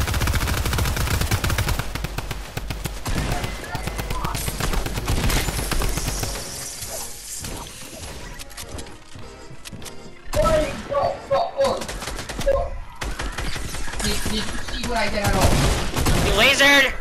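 Bursts of rapid automatic gunfire and single shots in a Fortnite Chapter 2 match, dense and loud early, then sparser shots and thuds with players talking over the action.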